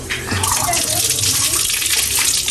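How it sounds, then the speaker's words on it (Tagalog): Cold tap water running and splashing as hands are washed under it at a grape farm, a loud close continuous gush. "Maghugas muna tayo. Ang lamig ng tubig."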